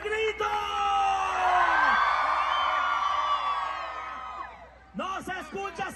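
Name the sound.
carnival crowd shouting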